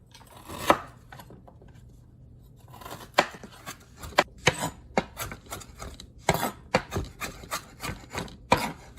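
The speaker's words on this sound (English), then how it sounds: "I'm just going to rough chop that and add that to our pan." A knife rough-chops a peeled root on a board with irregular sharp thunks. They start sparse and quicken into a dense run of close, crisp strikes.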